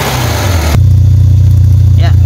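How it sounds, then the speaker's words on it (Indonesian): A 1995 Peugeot 405 automatic with a leaking exhaust idles up close, a loud steady low rumble with a faint puffing pulse, while someone speaks over it. "Mesinnya halus, nggak ada pincang, nggak ada brebet. ya. Cuma knalpotnya bocor ya guys."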